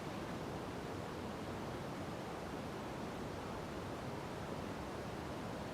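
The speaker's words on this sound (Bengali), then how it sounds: "মশলাগুলোকে খুব ভালো করে ভেজে নিতে হবে পেঁয়াজের সাথে।" Spices are fried with onion in a pan while cooking a Bengali drumstick dish in mustard paste, giving a steady, dense sizzle that holds without a break.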